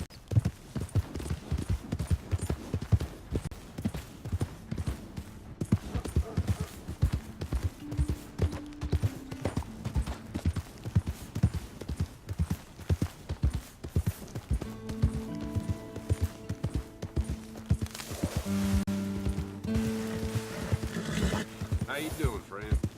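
A horse's hooves clip-clop steadily in Red Dead Redemption 2, a rhythmic run of distinct beats under game dialogue and music, with a whinny near the end.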